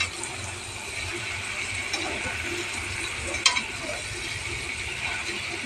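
Mutton and potatoes fry in a pan for a Bengali mutton-potato curry, giving a steady, close sizzle broken by a few soft stirring scrapes and light clinks, with no talking.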